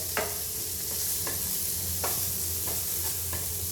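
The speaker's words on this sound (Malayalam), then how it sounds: "അങ്ങനെ നമ്മുടെ പയറൊന്ന് മൂത്ത് വരുന്നുണ്ട്." Beans fried with chili sizzle steadily in a pan on a home stove, with a few sharp scrapes from a spoon stirring them. No one speaks.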